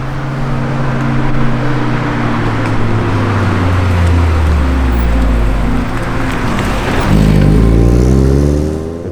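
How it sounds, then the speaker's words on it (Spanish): Engine and exhaust of a first-generation Mazda MX-5 NA roadster, a loud, close drone that rises in pitch as it revs, eases off briefly, then climbs again before settling. "el sonido del escape, el sonido del motor"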